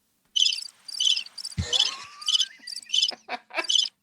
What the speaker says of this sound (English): all you hear is freaking crickets